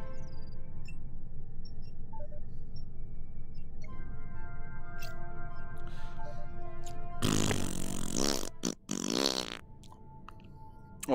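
A voice imitates fart noises during a late-night VR gaming session of Star Trek: Bridge Crew, two loud buzzing, sputtering blasts near the end after a quiet stretch of hum and faint tones.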